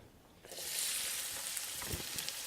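Chopped onion dropped into a hot pan of oil for a meat masala, rising at once into a steady, close sizzle that holds to the end, with a few faint clicks of stirring.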